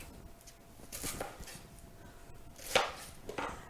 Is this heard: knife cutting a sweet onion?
yes